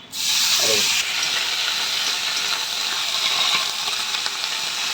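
Eggplant pieces and bottle gourd leaves frying in oil in a pan for a fish dish: a steady, loud, bright sizzle that starts abruptly and continues evenly throughout, with a brief stirring scrape near the start.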